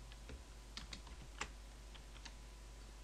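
Scattered keystrokes on a computer keyboard while entering a search in Notepad, a handful of light, irregular clicks spread over a few seconds against a quiet background hum.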